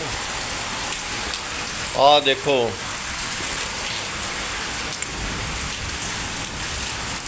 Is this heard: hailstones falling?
yes